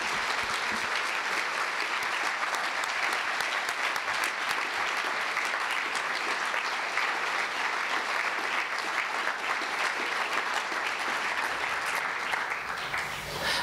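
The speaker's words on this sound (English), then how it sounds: "Let's give another round of applause for an incredible woman." Sustained audience applause for an award recipient at an evening event against hate, a full, even wall of clapping lasting over thirteen seconds with no talk, easing slightly at the end.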